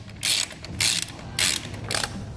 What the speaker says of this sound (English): grab your wrench again with a 1/2-inch socket and tighten up those lock nuts